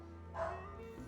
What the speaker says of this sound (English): And my dogs are barking at something outside.